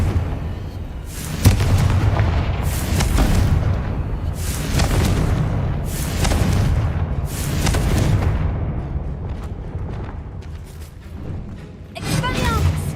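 Confringo fire-blast spell in Hogwarts Legacy, a series of loud booming explosions recurring every second or two, with rumbling bursts and crackling debris over a dense battle din.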